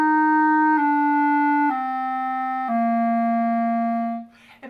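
Clarinet slurring smoothly downward from A through a few sustained notes, each held about a second, full and close, ending with a soft breathy release.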